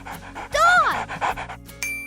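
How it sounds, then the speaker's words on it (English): A dog pants in a short, breathy burst of quick rhythmic huffs, close and clear, with a brief whine-like tone partway through. "Choose the dog."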